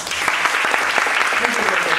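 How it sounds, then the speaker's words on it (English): Dense, steady audience applause at a Toastmasters club meeting, a continuous wash of many hands clapping that holds evenly at full strength for the whole stretch. "Let's once again give her a big round of applause"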